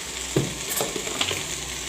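Leafy greens sizzle in a hot pan while being stirred and pressed down, with steady frying hiss and a few soft spatula scrapes close by.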